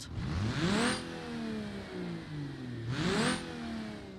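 The diesel engine of a Stanbecco revs up twice, each rise climbing then falling back to a steady mid-pitched idle, heard fairly close.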